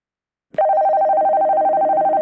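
A telephone rings in a video game, a loud, steady electronic trilling tone that starts suddenly after a short silence and keeps pulsing evenly, with no voices.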